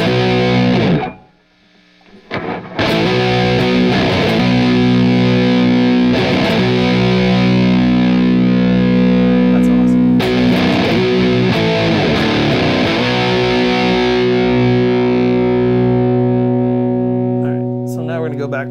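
Electric guitar played through a Matamp GT1 tube amplifier, loud sustained distorted chords ringing with rich harmonics, with a brief gap near the start and several restruck chords, close and full.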